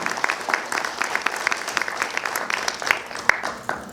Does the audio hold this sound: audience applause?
yes